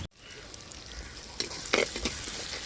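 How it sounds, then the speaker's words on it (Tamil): Onions sauté for a fish curry in a clay pot, giving a soft, continuous sizzle with occasional brief stirring scrapes nearby. "வெங்காயம் வதங்கிட்டு இருக்கு நல்லா வதங்கணும்"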